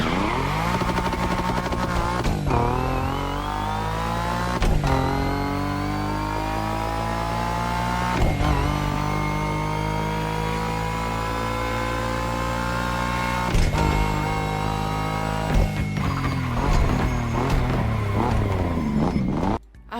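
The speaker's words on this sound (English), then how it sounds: "I forgot it was the one with the weird tuning fork sound that just appears" A Monster Rock Kit 350 engine with straight cut gears in The Crew Motorfest revs hard with a strident, whining tone, rising through gears with repeated shift breaks and a tuning-fork-like harmonic.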